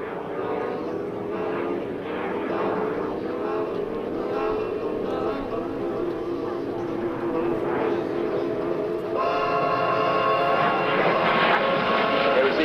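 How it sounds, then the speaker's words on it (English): A 1952 F-86 Sabre jet flies past at an air show, a continuous roaring engine rumble that swells and shifts as the aircraft moves overhead, with a commentator's voice heard talking over it. "The AT&T F-86 Sabre flying there."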